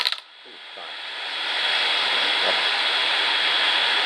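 A Hubsan Zino Pro+ drone spins up its motors: after a brief clatter, a high whining hum rises over about a second and a half and then holds steady and close.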